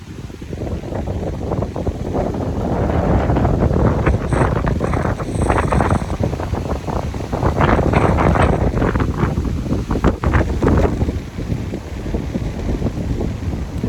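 Strong wind buffets the microphone outdoors, a loud continuous roar that surges in gusts throughout.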